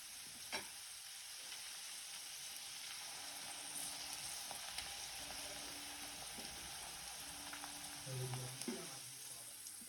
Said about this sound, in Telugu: కొంచెం అల్లం పేస్ట్ కూడా దీంట్లో వేసి వేయించుకుందాం